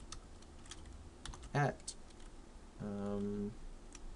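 Typing on a computer keyboard into a web form, heard as quick, close runs of key clicks, briefly interrupted by a short spoken word and a hum-like tone midway.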